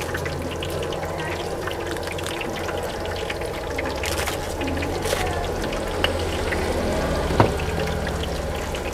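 Cabbage frying in a pan at a food stall gives a steady hissing sizzle with a few brief clatters, heard alone without talk.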